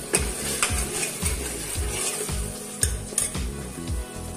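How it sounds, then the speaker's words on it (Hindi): Spiced masala sizzles in a pan for katahal-aloo sabzi after tomatoes and coriander leaves go in, with a steady fry hiss and repeated scraping stirs of a spoon against the pot, plus occasional metallic clinks, close and alone. "अब इसमें माँ टमाटर डाल दिए हैं। टमाटर डालने के बाद धनिया के पत्ते डाल दिए हैं।"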